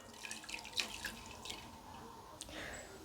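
Tap water running into a cooking pot to cover potatoes for boiling, a soft, close stream with splashes and small drips and no talking.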